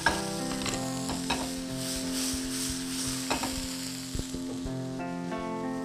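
Vegetables stir-fried for green bean noodles, a steady close sizzle with scraping and tossing in the pan, accompanied by a constant background music bed.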